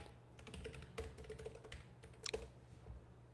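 Computer keyboard keys clatter in quick, irregular bursts of taps with short pauses, faint and close, with no talking.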